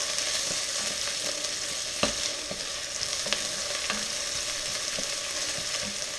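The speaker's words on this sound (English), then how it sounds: "you want to just break up all of your onions and saute it for about 30 seconds to a minute" Chopped onions sauté in a hot pan for Trinidadian fried bora with potatoes, giving a loud, even sizzle and a few soft clacks of stirring.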